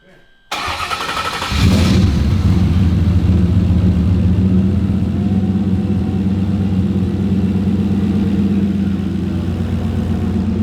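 Ford Fox body car with a Coyote V8 swap fires up after a short silence, then settles into a loud, steady, lumpy idle with a deep rumble that continues without pause.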